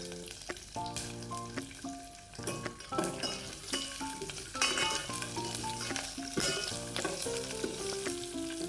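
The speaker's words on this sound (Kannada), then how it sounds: "ಎಣ್ಣೆ ಕಾಯಕ್ಕಿಟ್ಟಿದ್ದೀನಿ. ಅದಕ್ಕೆ ಜೀರಿಗೆ ಸಾಸಿವೆ ಹಾಕ್ಕೊಂಡು ಬೆಳ್ಳುಳ್ಳಿ ಮತ್ತು ಕರಿಬೇವು ಇದು ಚಟಪಟ ಅಂತ ಸಿಡಿದಾದ್ಮೇಲೆ" Cumin, mustard seeds, garlic and curry leaves splutter and sizzle in hot oil while a drumstick sambar is cooked, a steady crackling fry heard under music.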